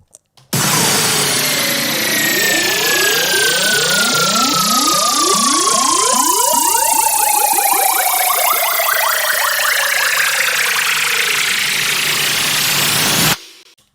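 A resampled synthetic riser effect made for a sample pack: a loud, dense electronic sweep with rapid pulsing ripples and tones gliding steadily over about thirteen seconds before cutting off sharply, no talking.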